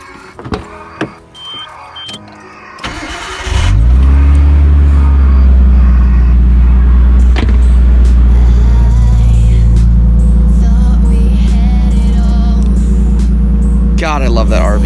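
A Nissan R32 Skyline engine cranks and fires at about three seconds, then settles into a loud, steady, deep idle rumble that continues close by to the end, with a short clatter near the finish.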